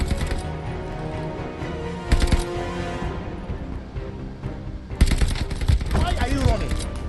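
Bursts of rapid gunfire in a video game as players shoot at a bounty target, loud and close, with repeated volleys over a dense game soundscape and brief talk.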